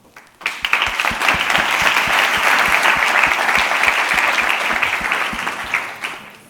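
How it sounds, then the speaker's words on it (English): An audience breaks into a warm round of applause, loud, dense clapping rising sharply, holding steady for several seconds and then tapering off. "So please give a warm applause to Eva Diaz and her project"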